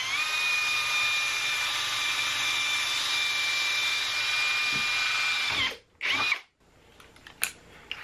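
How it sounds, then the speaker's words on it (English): A power drill bores a pilot hole in a small bracket for a solar power setup, a loud, steady high-pitched whine running for several seconds before slowing, a brief second burst, and then clattering handling noises. "I'm just going to use a smaller bit first to start a little pilot hole"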